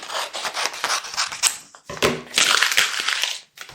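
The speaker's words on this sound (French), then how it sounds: "je vais découper vos noms devant vous" Scissors slice through slips of paper bearing written names, a close, crisp run of snipping and rustling cuts in quick bursts, with a short pause partway through.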